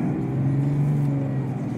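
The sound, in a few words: automatic car accelerating out of a roundabout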